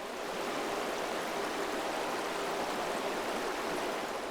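A river in a rocky Himalayan gorge rushing over scattered slippery boulders, a loud continuous broadband roar of fast-flowing water with no pauses.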